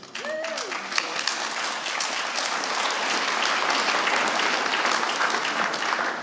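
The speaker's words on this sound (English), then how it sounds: "whilst we are all applauding here" Applause rises for an honorary graduate at a university summer graduation ceremony, a broad crowd clapping that swells and stays full, with a brief voice and a chime-like tone near the start.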